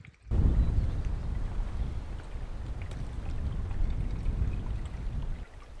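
Water flows and gurgles along a creek in the Arizona desert, a steady, close rushing sound with some wind buffeting, starting abruptly and continuing alone.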